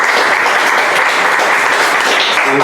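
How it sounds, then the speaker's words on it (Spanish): Loud, dense audience applause for a discussion panel at the close of a talk, a steady wash of many hands clapping together without pause, close and full throughout. "Me pido un gran aplauso para esta gran mesa que hemos tenido el día de hoy."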